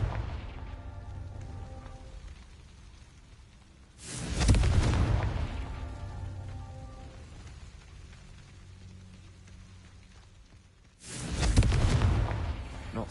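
Confringo fire spell blasts in Hogwarts Legacy gameplay: two heavy booming explosions several seconds apart, each a sudden loud burst that rolls off slowly over a low ambient rumble, with no talk.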